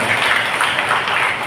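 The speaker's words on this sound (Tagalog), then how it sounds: "Malakas na palakpak kay Yahweh El Shaddai" Congregation clapping at an El Shaddai church anniversary gathering in Morong, Rizal, a dense, steady wash of many hands applauding throughout, moderately loud and fairly close.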